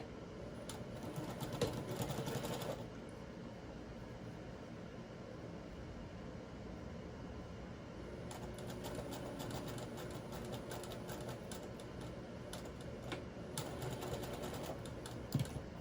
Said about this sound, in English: when you sew with the sewing machine